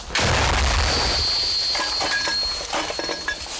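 One sharp, heavy gunshot from a long-range weapon in combat cracks out loudly, then rumbles away with a lingering ringing tail and faint clinks afterward.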